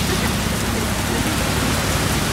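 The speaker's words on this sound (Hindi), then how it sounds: "इतनी बारिश हो रही है" Heavy rain pours down in a steady, loud, dense roar with no gaps, the constant wash of drops filling the whole stretch with no voices heard.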